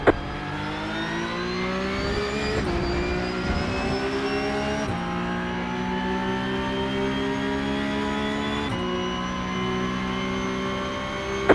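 Porsche Cup race cars at Fuji in a racing video game, in the rain, with an engine screaming as it climbs through the revs and drops sharply at each upshift, three shifts in a row, with other cars roaring close by.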